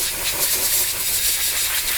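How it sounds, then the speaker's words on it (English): Compressed air blasting debris off the strainer of a 650,000 BTU Dayton torpedo heater, a loud, steady, close hiss that holds without a break. "all I'm doing is just kind of loosening up the debris that's on this strainer and trying to blow it off"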